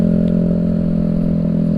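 A Honda Vario with a racing exhaust idles with a loud, throaty exhaust, a steady rumbling burble lasting a couple of seconds.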